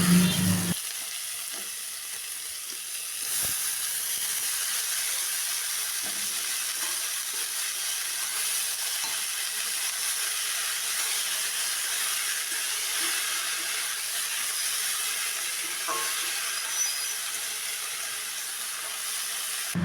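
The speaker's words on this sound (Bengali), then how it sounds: "ফোড়নের ভালো ভাজা গন্ধ বের হলে দেব নুন মাখিয়ে রাখা ভাদাল" Salted bhadal fish fries in a black cumin spice tempering, giving a steady, dense sizzle and hiss that runs unbroken for about twenty seconds with a few faint stirring clicks and no talk.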